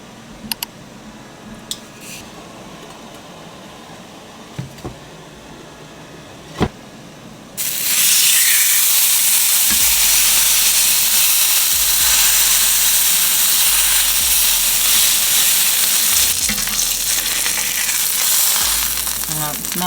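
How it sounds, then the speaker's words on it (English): A steak sears in a hot pan on high heat, the loud, steady sizzle starting abruptly after a few quiet seconds of faint clicks and continuing without a break. "you do want a good sear and crust on this steak, so that is why you want to sear this on high heat"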